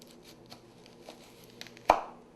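A knife cuts down through an onion on a board, producing one sharp, close chop after a few soft taps, in a quiet kitchen.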